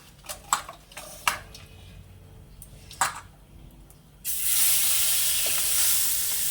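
Small pabda fish frying in hot oil, first a few sharp clinks of a utensil against the pan, then a loud steady sizzle that swells up and continues close by.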